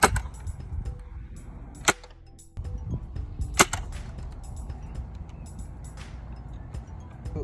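A toy dart blaster fires half darts launched at a 45-degree angle outdoors: two sharp, brief pops a couple of seconds apart over steady wind and background noise, with no talk.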